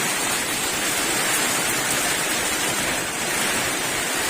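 Steady heavy rain pouring down at a boat repair yard, a dense, even hiss of falling water close by with no letup and no voices.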